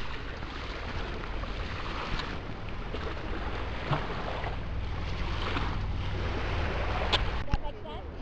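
Kayaks out on Lake Erie, with steady wind rush and water lapping, broad and continuous with a few light knocks near the end.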